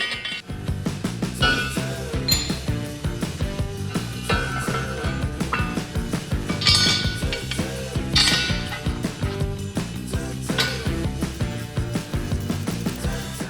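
Metal clinks, clanks and ratcheting from unbolting a part of a farm truck axle during a rebuild, with repeated sharp tool-on-metal hits and wrench turns close by, no talking.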